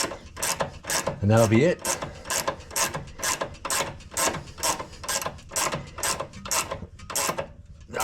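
A hand ratchet clicks in quick, even bursts while tightening a sway bar link bolt on the front of a car, close and crisp, with a brief spoken line partway through.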